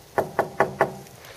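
Knuckles rapping on wood, four evenly spaced, fairly close knocks followed by a faint fifth, with no talk over them.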